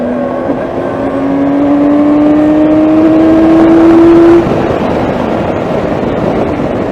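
Vehicle accelerating out of a bend on winding roads, the engine note rising steadily in pitch for several seconds before easing off, loud and close over road and wind noise.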